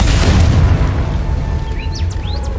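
Confringo spell explosion in the video game Hogwarts Legacy, a heavy close boom with a rumbling tail, followed by faint chirping bird-like calls.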